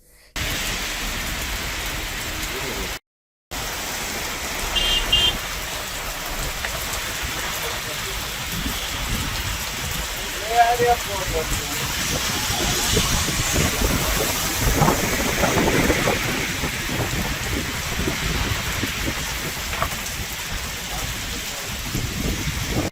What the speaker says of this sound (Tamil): செங்கல்பட்டு மாவட்டத்திலும் கனமழை பெய்கிறது.